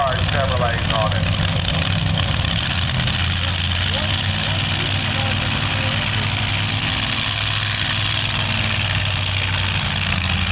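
Pulling tractor fitted with three supercharged Chevrolet engines at a 2012 tractor pull, a steady loud low engine drone running throughout, with a commentator talking over it.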